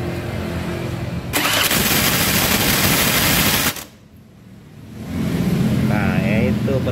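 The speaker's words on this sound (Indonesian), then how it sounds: "Coba kita starter." The electric starter of a Honda Beat FI scooter with a starter fault cranks the engine in one loud, harsh burst of about two seconds, then stops abruptly, with quieter noise before and after.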